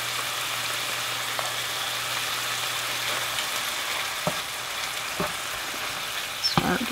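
Beef and cabbage with peanut butter are stirred in a hot pan, sizzling steadily and close by, with a few soft scrapes of the spoon near the end.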